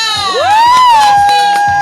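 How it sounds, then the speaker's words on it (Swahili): A crowd at a Tanzanian literary award ceremony cheers and ululates for the first-prize winner of a Swahili literature award, with a loud, sustained, rising high trill carried over the noise of the crowd. "Shangwe, nderemo, vigelegele zisikike kwa mshindi wetu wa kwanza."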